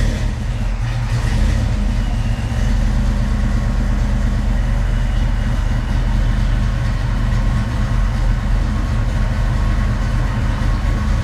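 A Foxbody Mustang V8 with a newly installed Holley Terminator X fuel injection system idles steadily and loudly up close, a continuous deep rumbling drone that holds even for the whole stretch with no talking.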